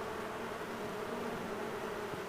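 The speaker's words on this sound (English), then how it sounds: "shook the bees into the box" A honeybee swarm from a cherry tree, just shaken into a box, buzzing in a dense continuous drone that holds steady and close.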